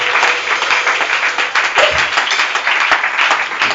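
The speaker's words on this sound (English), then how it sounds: "Clap your hands and give God" A worship congregation claps loudly, a dense, steady mass of hands close by with a few scattered voices mixed in.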